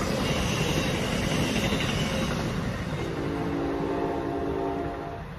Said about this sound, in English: There's a train behind me just going by,